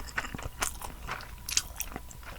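Close, quiet bites and chewing on grilled mackerel at a street food stall, with soft crunchy nibbles and wet mastication clicks in an irregular rhythm over a low background hum.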